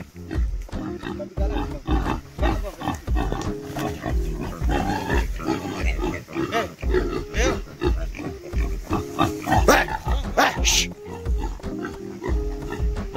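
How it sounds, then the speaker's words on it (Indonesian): A charging pig grunts and squeals in rapid, loud bursts close by, mixed with a dog barking and excited shouting voices throughout. "Babi nyerang bos, babi nyerang,"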